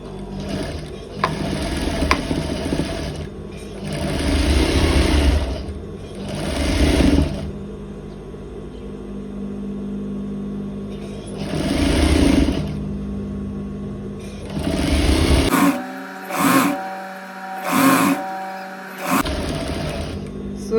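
A sewing machine stitches elastic waistband channels in several bursts of rapid, whirring needle action separated by short pauses, close and loud. Later comes a run of quick stop-start stitching.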